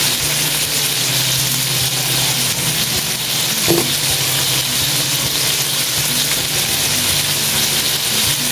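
Tomato sauce fries in a hot pan with a loud, dense, continuous sizzle and hiss, steady throughout, with a faint clink of stirring partway through and no one talking.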